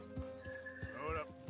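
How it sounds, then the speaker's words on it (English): Horse in the video game Red Dead Redemption 2, with clip-clop hoofbeats in a steady rhythm and a whinny partway through, all under background game music. "we get off this horse"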